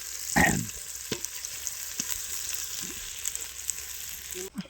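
Onions go into hot oil with green chillies for a village-style pork fry, a steady close sizzle opening with a loud crackling burst, then scattered stirring knocks and brief low voices in the background.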